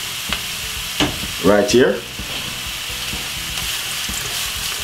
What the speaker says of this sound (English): So I'm just gonna make this fry for up about 5 to 6 minutes.